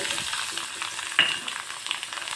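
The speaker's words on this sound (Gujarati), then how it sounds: "હવે ડુંગળીને આપણે ગોલ્ડન બ્રાઉન સુધી કૂક કરી લઈશું" Finely chopped onion frying in oil with whole spices, cooking toward golden brown for a split moong dal: steady broadband sizzle with one brief louder scrape of a stirring spoon partway through, no voices.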